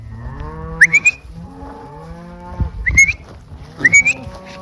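Cattle mooing loudly nearby on a farm, several long drawn-out lows in succession with sharp shrill whistle-like calls layered over them, and a muffled thump in between.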